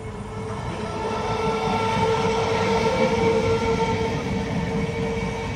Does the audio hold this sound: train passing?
yes